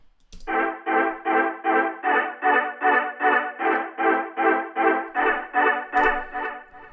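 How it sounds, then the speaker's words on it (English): A synth chord pulses in a steady repeated rhythm through a tape delay in Logic, about sixteen even hits with soft echo tails, loud and alone, with no voices. "We're going to go delay, tape delay."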